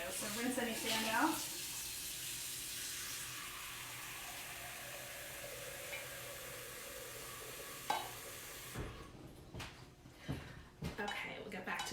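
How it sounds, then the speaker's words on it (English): Tap water runs into a pot being filled for potatoes, a steady rushing stream that stops near the end and is followed by clinks of pots and dishes, with a voice talking over it. "I'm going to fill this with some more water for our potatoes"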